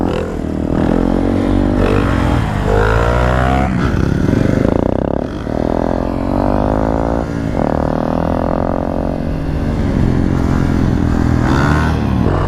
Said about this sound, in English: So basically I can do first gear wheelies for sit downs, maybe second gear stand-ups.